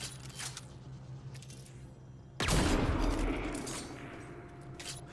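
A single loud, sharp sniper rifle shot rings out in a jungle area of Mass Effect Andromeda and decays slowly, preceded by quieter game ambience and small metallic clicks.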